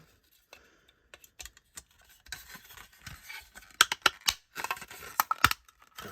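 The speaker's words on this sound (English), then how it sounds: "Let's click it together." The two halves of a plastic model toy body are pressed together: scattered faint taps, then a run of sharp, close plastic clicks and snaps, with no voices.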